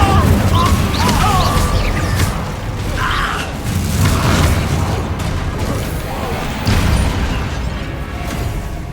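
Incendio fire spell cast in the Hogwarts Legacy game, with dense booming blasts, bursts and crackling magic effects over a steady loud rumble, and game voices now and then.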